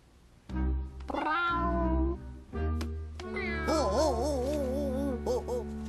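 A cat meows repeatedly and insistently, long wavering cries close by, rising and falling in pitch one after another.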